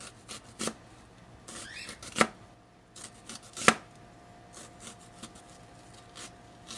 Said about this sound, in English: You're going to make 1 slice, another slice, another slice.